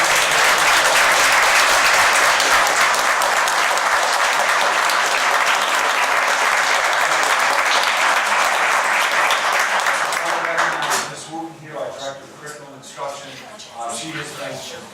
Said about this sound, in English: can we have a round of applause for the teachers?